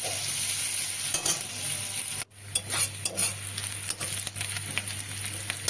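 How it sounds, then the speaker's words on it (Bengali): Fish maw is stirred while frying in hot oil in a pan, giving a steady loud sizzle broken by scraping and stirring noises, with no talk. "তেলের ওপরে দিয়ে একটু ভালো করে নেড়ে নিতে হবে বেশ লালচে লালচে করে ভাজা হবে"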